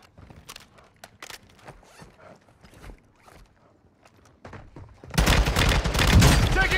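Gunfire in the shooter Warzone 2: faint sporadic sharp cracks and footsteps at first, then a loud sustained burst of rapid shots and impacts fills the final second and a half.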